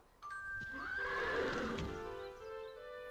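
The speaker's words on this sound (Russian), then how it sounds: "Какой классный звук издают лошади." A cartoon horse on a farm in a children's animated show gives one loud, drawn-out whinny that rises sharply and trails off over a couple of seconds, heard close and clear on its own.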